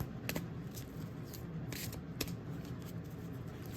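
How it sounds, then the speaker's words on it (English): Quiet shuffling of gilded oracle cards by hand, a few crisp flicks and papery rustles spaced unevenly over a low steady background hum. "tossing it, kind of like a little hand shuffle."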